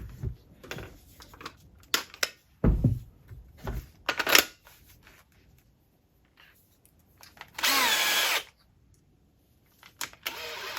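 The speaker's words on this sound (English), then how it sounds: "the reason the drill is protruding so far is I'm hoping that I can score to hit the second one" A power drill bores a hole through model railway scenery near a motorway underpass being fitted with LED lighting, in several short whirring bursts with pauses, one long loud run near the end.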